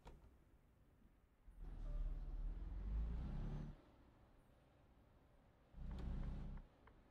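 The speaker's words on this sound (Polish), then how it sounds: "A ja palę naszego Mercedesa i jedziemy" Mercedes truck engine in Euro Truck Simulator 2, a quiet low rumble that swells into a sustained engine drone for about two seconds, drops back, then returns in a short second burst.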